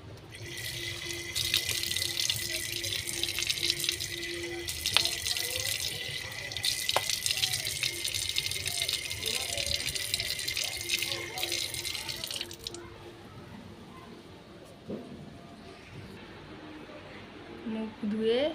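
A tap runs into a sink during face washing, a loud continuous stream with a few drips and splashes that cuts off near the end, followed by quieter room sound and a voice speaking.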